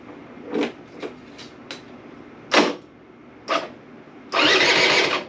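A Honda AF09 scooter's electric starter motor cranks the engine in several short, separate bursts, then one longer, louder sustained crank at the end, close up with no talk.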